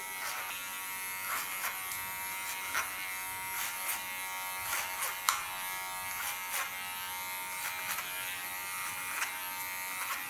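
An electric hair clipper buzzes steadily while cutting hair on the sides of a man's head, a close, continuous hum with small rhythmic bumps as it passes through the hair.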